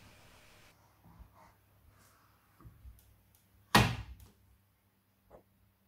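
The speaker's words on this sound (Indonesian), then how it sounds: "tutup laci sabun mesin cuci hingga rapat dan terkunci" The detergent drawer of a Midea front-loading washing machine is pushed shut with one sharp, close plastic thunk, preceded by faint handling sounds and followed by a small knock.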